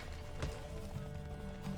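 Horse hooves clip-clop at a run in The Witcher 3, a steady rhythmic pounding heard close and moderately loud, mixed with low game ambience and a faint whinny-like tone.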